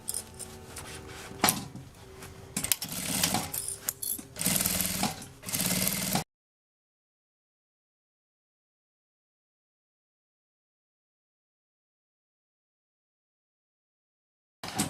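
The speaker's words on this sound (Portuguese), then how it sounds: "agora aqui, ó, uma costura com um pé de máquina em toda a volta." A sewing machine stitches a seam around a fabric bag in close, loud bursts of rapid mechanical running, stopping and starting, then falling silent.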